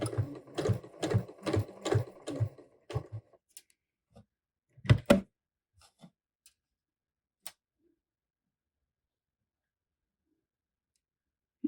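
A sewing machine stitches a pocket onto Tamiko pants, running in several quick rhythmic bursts up close before stopping, followed by a few scattered clicks and handling taps and then quiet.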